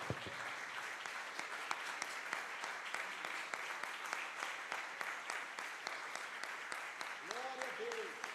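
A church congregation applauds in sustained, quick clapping, moderately distant and even throughout, with a voice rising faintly near the end.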